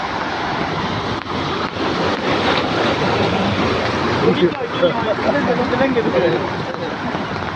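Flood water surges in rushing waves through a flooded area around buildings where an ambulance sits submerged. A loud, continuous broadband wash with heavier swells near the end, and a voice talking over it.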